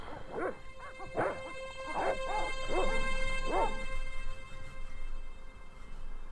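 Dogs bark in the point-and-click adventure game Broken Sword: The Shadow of the Templars, five clear, evenly spaced woofs over a quiet background with no talking.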